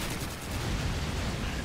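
Dense rumbling explosions and gunfire in the Call of Duty 2 Russian campaign, a continuous loud barrage of booms and cracks with no voices.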